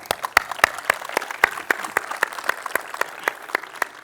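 A small crowd at the Devoxx Belgium developer conference gives a conference speaker a round of applause, with distinct individual claps standing out over a softer wash of clapping, moderately loud and without speech.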